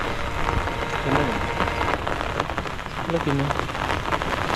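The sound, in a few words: heavy rain during a storm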